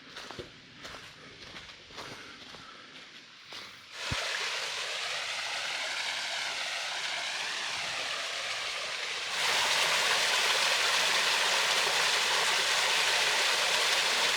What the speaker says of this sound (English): I can see the stream. I can hear the stream.